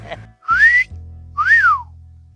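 Two rising-and-falling wolf whistles, loud and near, the first sweeping upward, the second arching up then down, over a low steady hum.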